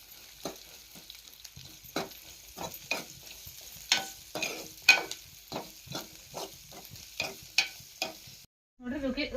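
Chopped onions sizzle in a hot pan for an onion palya, with a steady frying hiss and repeated scraping stirs of a spoon at an irregular rhythm, close and moderately loud, ending abruptly.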